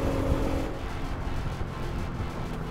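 A 2017 Nissan R35 GT-R's engine and exhaust give a steady, close, low rumble with a continuous droning tone, holding even in level for under three seconds with no talking.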